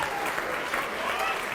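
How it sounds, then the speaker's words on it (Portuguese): A church congregation applauds during a sermon, a brief, steady burst of clapping with faint voices mixed underneath. "Vamos aplaudir mais ao nome de Jesus."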